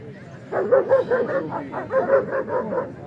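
Dogs at a PKC dog show in Lahore let out a quick run of repeated yelping barks, fairly close and fast-paced, over low background murmur.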